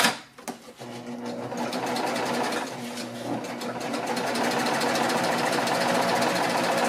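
A sewing machine stitches across a fabric tail on a handmade bag, running as a steady, close mechanical hum and rapid needle chatter after a few brief starts at the beginning.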